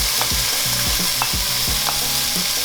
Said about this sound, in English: I have some minced lamb over here, and that's just going to go into the mix.